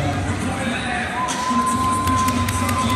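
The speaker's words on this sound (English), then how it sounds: "Round of applause." A large crowd cheers and shouts steadily during a halftime layup competition at a Hawks basketball game, with continuous arena noise and some higher-pitched voices throughout.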